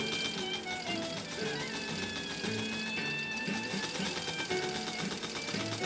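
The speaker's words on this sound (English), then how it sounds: "Let's launch into this stuff that Teresa wanted me to sew on once the machine was finished." A restored 1953 Singer 15-91 sewing machine stitches fabric with a steady, rapid mechanical whirr and needle clatter. It runs continuously at an even, moderate loudness, with no voices.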